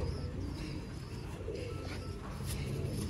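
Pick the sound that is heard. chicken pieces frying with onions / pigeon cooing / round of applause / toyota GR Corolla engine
pigeon cooing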